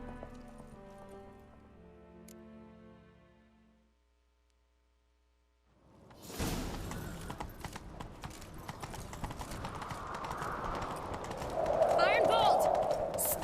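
Musical tones fade to near silence, then the rapid clip-clop of galloping hooves bursts in loudly and keeps driving, joined by whooshing noise as it builds.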